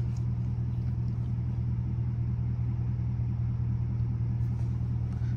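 Steady low rumble of a burble-tuned Dodge Charger RT engine driving through a neighborhood, a constant deep idle-like drone that stays moderately loud without any clear revs.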